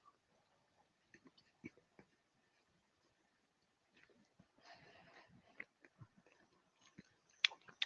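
Someone chews crumbly barrel-aged sheep and goat milk feta, with faint, quiet crunching and mouth sounds that come sparsely at first and then grow more steady toward the end.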